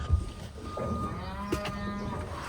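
Cattle moo at feeding time on a farm, a drawn-out low call rising and falling, fairly close, with faint outdoor background noise around it.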